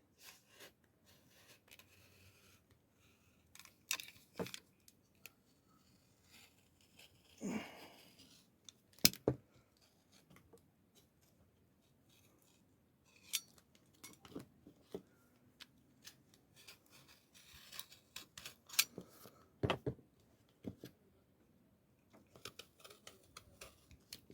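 Scissors cutting along a pencil mark, soft close snips and paper rustling scattered irregularly through a quiet room, a few sharper clicks standing out.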